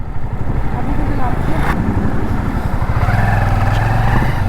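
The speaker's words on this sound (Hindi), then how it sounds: "देखो ऐसे निकलती है बाइक्स" Motorbikes pass on a road during a long Chopta to Delhi ride, engines droning loudly and continuously with a rising tone as one rides by, while people talk over the noise.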